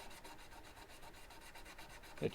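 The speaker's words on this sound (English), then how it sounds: "this is nice to polish them up, take any little burrs out, take that grittiness out that you" Guitar frets on a Monoprice Indio Boardwalk are polished to remove burrs and grit, producing a soft, steady rhythmic rubbing and rasping close by, faint and continuous with a slightly louder scrape at the end.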